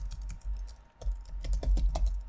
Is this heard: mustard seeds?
no